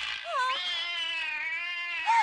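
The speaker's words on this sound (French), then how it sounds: "D'où sortent tous ces chats?" Cartoon cats meow in a drawn-out chorus, several rising and falling calls overlapping into a loud, continuous wail with one sharper cry at the end.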